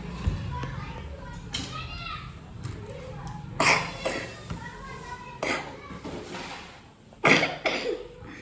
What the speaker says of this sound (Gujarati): કેટલી ઉધરસ આવે છે